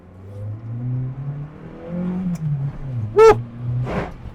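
Older Hyundai Atoz city car revving and accelerating, engine note rising and falling in several surges with a sharp short burst near the end, loud and close with no one talking.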